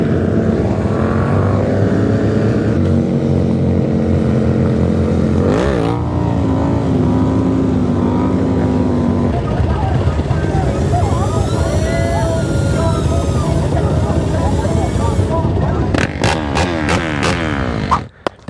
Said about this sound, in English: Here we go onto the highway on the Razor.